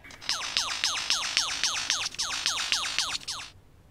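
A lyrebird sings a rapid, repeating series of electronic-sounding warbled notes like a 1980s arcade game, about a dozen even pulses in quick rhythm, clear and close, then stops.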